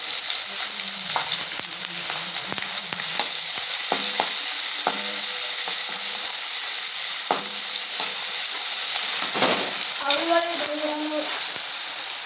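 Onions fry in a pan of hot oil with mustard seeds and curry leaves, a steady broadband sizzle running throughout with repeated scraping stir strokes, close and fairly loud, no talking.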